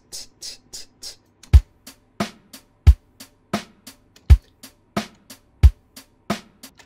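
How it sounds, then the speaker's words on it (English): A neo soul backing-track drum beat sounds alone and up close: crisp hi-hats panned slightly left and right tick in an even pattern over deep kick thumps and a faint low tone. "So now we've got sort of a stereo sort of sound with our hi-hats."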